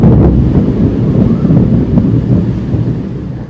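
Gusty wind roars against the microphone as a thunderstorm nears, a dense, loud low rumble sustained throughout with no speech.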